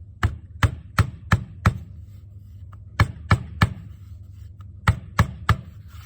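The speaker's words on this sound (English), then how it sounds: "So I'm going to flip it over and give it some light taps." Sharp light taps on a clay cupcake base, about a dozen crisp knocks in two quick bursts with a short pause between, close by over a low steady hum, no voices.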